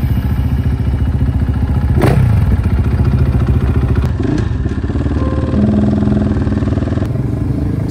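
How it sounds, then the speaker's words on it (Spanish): A rally motorcycle engine starts loud and close, its rough idle rising into revs with clattering mechanical noise and a few thumps. "Encendemos moto"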